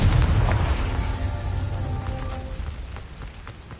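A Confringo fire spell explodes in Hogwarts Legacy, a deep booming blast that rolls out into a crackling, rain-like rumble fading over a few seconds, with no talk.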